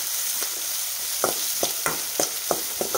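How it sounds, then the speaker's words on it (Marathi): Chopped onion sautés in a pan for upma, with a steady sizzle broken by a handful of sharp spatula scrapes and taps toward the end, close and fairly loud, no voices. "आता टाकून ह्याच्यामध्ये कांदा, आणि कांदा आपल्याला छान परतून घ्यायचा"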